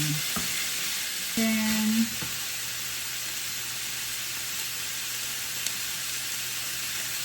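Boiled chicken pieces and elbow macaroni sautéing in a pan give a steady, moderate sizzle with light stirring scrapes. A brief low hum rises near the start, and the frying continues evenly to the end.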